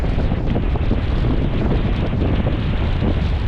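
Strong wind roars across the microphone on a boat at sea during a sea trial. The rush is loud, close and unbroken, with faint water and vessel noise underneath and no voices.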